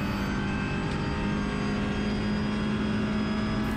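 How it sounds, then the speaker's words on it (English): A TCR touring race car at full throttle down the long Mistral straight at Circuit Paul Ricard, reaching about 250 km/h, gives a loud, steady engine drone with constant wind and road roar throughout. "full throttle through this left-hander on the long straight, where we hit 250"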